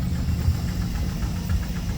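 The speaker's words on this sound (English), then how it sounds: "that is the Foster traction engine" Foster steam traction engine running at a steam fair, a low steady rumbling chuff with soft rhythmic knocks, moderately quiet and close, no voices.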